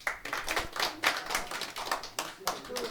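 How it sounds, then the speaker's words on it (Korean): Audience clapping at a meeting in Haeundae about a Vietnam War veterans' combat-pay claim and incorporation, a steady patter of many hands going on for a few seconds, with voices mixed in. "여러분 박수 한번 더 주세요"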